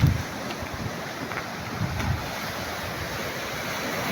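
Sea waves washing on the shore at Bangunay, a steady soft rush of surf with wind buffeting the microphone and a couple of slightly stronger swells early on.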